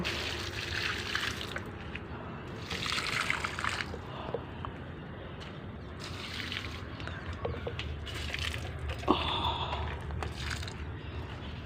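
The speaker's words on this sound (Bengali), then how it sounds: "হয়ে গেল গাছে জল দেওয়া।" Water from a garden water tank being poured over potted plants, a soft continuous trickling and splashing with intermittent louder pours, close by and with no talking.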